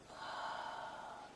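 A long, soft, airy exhale through the mouth during a yoga hamstring stretch, close and steady, rising gently and then tapering off.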